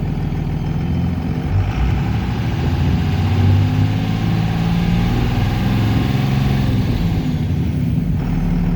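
A second-generation Cummins diesel truck engine idles steadily, a deep low rumble holding level and close for the whole stretch, with no voices over it.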